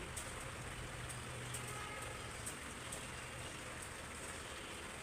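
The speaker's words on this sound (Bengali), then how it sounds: "এই তো বৃষ্টি এত বৃষ্টি" Heavy morning rain pours outside a home, a constant, fairly quiet wash of drops with a few faint sharper taps scattered through it and no talking.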